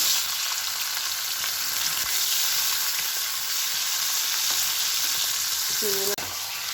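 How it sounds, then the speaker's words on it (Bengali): Prawns frying in hot oil in a wok give off a dense, continuous sizzle at close range, with a brief clatter of a spoon near the end. "এই যে চিংড়ি মাছগুলো কড়ায় দিয়ে দেবো কড়ায় তেল গরম হয়ে গেছে"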